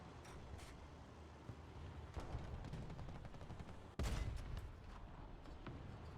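Gunfire in a video game aimed at the player, heard as a steady dense crackle of shots over background noise, with a sharper, louder burst partway through.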